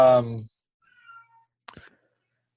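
A house cat meows once loudly and close, followed by faint small clicks, with a brief burst of speech at the end.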